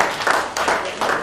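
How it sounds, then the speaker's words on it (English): Conference audience at a Freedom of Religion event breaking into applause, a short burst of clapping from a crowd, fairly loud and close, swelling in uneven waves. "can we give a round of applause?"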